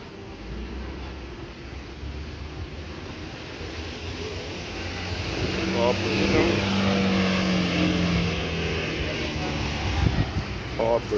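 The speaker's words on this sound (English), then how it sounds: "That is one of the big blue and yellow transport board buses." A big blue and yellow Barbados Transport Board bus passes along a busy street in Bridgetown, near Bridge Street Mall. Its engine drone swells in the middle and fades, over constant traffic and city hubbub.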